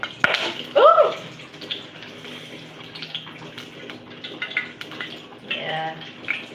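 Hot cooking oil containing a little water spatters and crackles in a pan while maandazi are made, with bursts of sizzling and a brief loud pop near the start.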